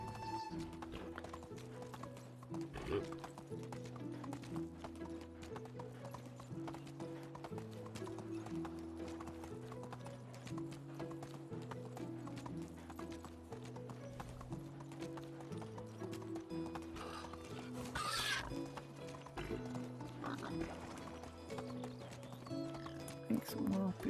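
Continuous riding hoofbeats from a horse in Medieval Dynasty, a steady clip-clop gait over music, with a brief neigh partway through.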